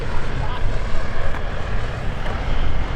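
Light RV propeller airplane landing at a busy EAA AirVenture Oshkosh field: a steady, loud engine drone with wind buzz, fluctuating gently throughout.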